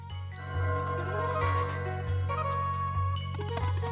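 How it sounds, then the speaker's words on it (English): A bell chimes in the video game Sea of Stars, a bright tinkling melody ringing repeatedly over a steady low musical drone, with no talking. "There's the bell."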